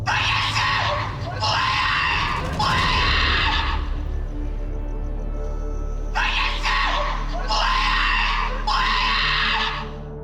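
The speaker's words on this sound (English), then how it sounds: "what sounded like a woman's blood-curdling screams" Piercing, scream-like shrieks ring out at a construction site at night, several long wailing cries in two clusters separated by a pause, loud and echoing over a low steady hum.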